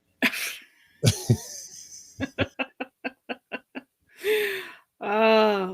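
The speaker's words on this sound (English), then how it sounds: "every once in a while you'll see me coughing during the show" A couple of sharp coughs up close, followed by a run of quick, evenly spaced breathy bursts and some throaty vocal sounds.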